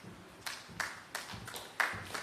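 Conference audience applause comes as a few scattered, separate claps spaced irregularly over two seconds, sparse and moderately near rather than a full ovation.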